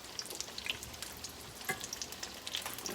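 Mac and cheese balls frying in oil in an enamel-coated cast iron pan give a steady, soft crackling sizzle with scattered small pops, heard close and alone at low volume.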